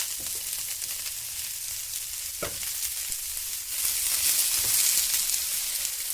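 Ivy gourd and egg being stirred in a hot frying pan, a steady soft sizzle with light scraping strokes, growing a little louder and brighter in the second half.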